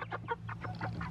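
Barred Rock chicken clucking in a run of rhythmic, close calls, about six pulses in quick succession over a steady low background hum.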